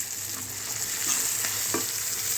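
Curry leaves and chillies fry in hot oil with a dense, even sizzle that stays loud and close, with a few soft stirring clicks along the way.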